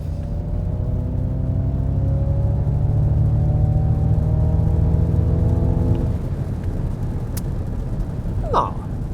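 A Ford Mustang Mach-E electric car accelerates hard, its rising electric motor whine climbing steadily in pitch over road rumble for several seconds, then dropping away into steady cabin and tyre noise.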